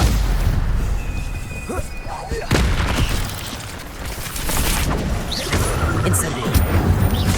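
Spell-casting in Hogwarts Legacy, a Stupefy stun spell, comes as loud bursts and booming impacts over a busy game soundscape of crashes and rumble, with the hits clustered near the start and middle.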